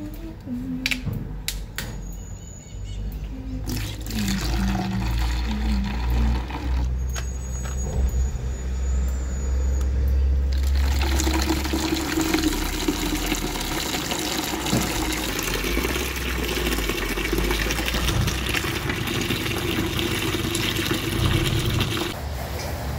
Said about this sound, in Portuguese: colocar uma água em cima e fazer uma espuma